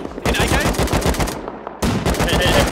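Rapid automatic gunfire in the survival game Rust, two close, loud bursts of dense cracking shots separated by a short pause.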